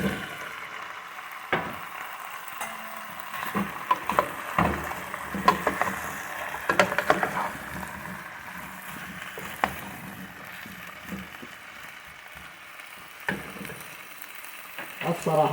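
Potatoes go into a pan of frying onions and sesame for Iraqi-style curry rice, a soft sizzle broken by scattered clatters and stirring knocks, with a voice speaking over the cooking.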